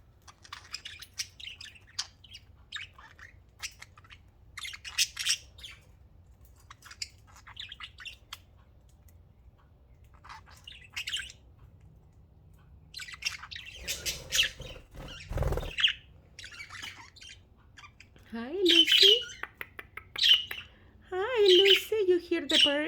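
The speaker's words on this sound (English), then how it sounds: "you hear the birds outside?" Birds outdoors chirp and squawk in scattered bursts, with sharper, louder calls near the end. Voices talk over them at times.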